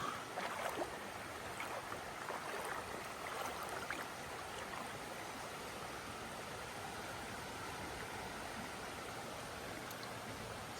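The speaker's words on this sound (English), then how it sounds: "Crossing the east branch of the Piscataquis River" Steady broadband rushing of river water while someone wades knee-deep across the east branch of the Piscataquis River, with the flow close and constant throughout and no voices.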